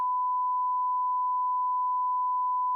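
A continuous mid-pitched censor bleep tone, steady and loud, holding unbroken for nearly three seconds with nothing else around it.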